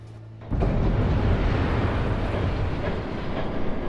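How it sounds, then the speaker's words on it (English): A train rushes past in Batman: The Telltale Series, a sudden loud roar breaking in after a brief quiet start and holding as a dense, steady rumble with faint rattling throughout. "There's a train coming."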